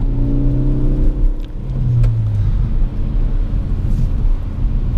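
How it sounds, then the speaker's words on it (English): A 2017 Ford Focus ST drives on snowy, slippery roads, its engine droning and shifting pitch as it revs, with a steady low rumble of road and tyre noise underneath. "this POV drive of the 2017 Ford Focus ST in snowy conditions"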